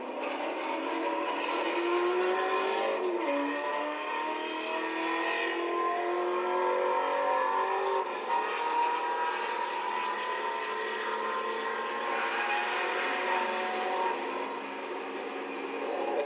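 A Porsche Boxster pulls along a track straight, its engine a steady, strong drone with rising harmonic tones as it gains speed, heard from inside the car with no talk.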